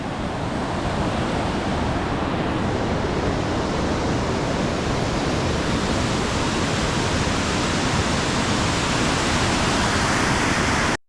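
Mountain stream water rushes in a steady, loud, unbroken wash along a hiking trail near Lena Lake in the Pacific Northwest, continuing alone without any talk.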